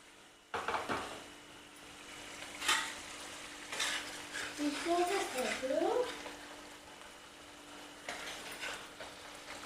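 Fish fries in a pan for a home-cooked fish curry, a low, quiet sizzle broken by several scraping stirs and clinks of a utensil against the pan, with a short voice-like sound partway through.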